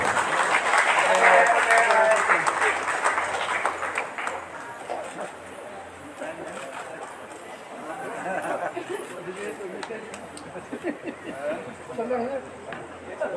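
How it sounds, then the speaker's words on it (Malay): Applause from an audience at a church hall opening ceremony, clapping loud at first and then thinning out while a voice speaks over it, with scattered metallic pings. "Kita berikan tepukan gemuruh."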